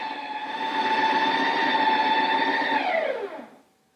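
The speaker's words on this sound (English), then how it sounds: "put it back on the machine and we pick mix in" Ninja Creami ice cream machine mixing chocolate into vegan cherry ripe ice cream, a loud steady motor whir with strong tonal hum that holds for about three seconds, then drops in pitch and winds down to silence.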